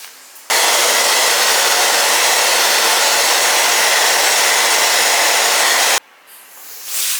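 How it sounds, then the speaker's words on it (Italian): A hair dryer blows steadily at close range on a down jacket, a loud continuous whooshing hiss that cuts in abruptly, runs for several seconds, then stops. "Ora non ci resta che asciugarlo con il phon se vogliamo fare prima."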